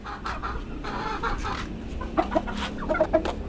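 Several chickens of the blue and black breeds cluck in a pen near a nesting area with eggs, a steady layered murmur of soft calls broken by a few sharper, higher clucks toward the end.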